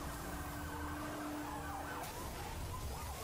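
Police car siren wails in a racing video game during a chase, a wavering electronic tone rising and falling behind engine noise at moderate distance.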